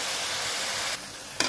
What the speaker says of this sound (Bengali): ভেজে নিচ্ছি তেলের মধ্যে